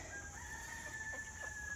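Chickens on a backyard farm, laying hens alongside meat birds, giving soft steady clucks and murmurs at low volume with a constant tonal hum behind them.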